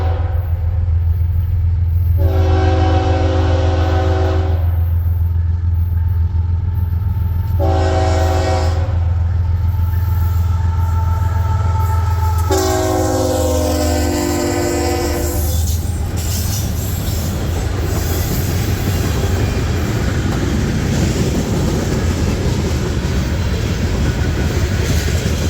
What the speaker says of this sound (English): it was perfect light and perfect weather for a little train chase of NS-30T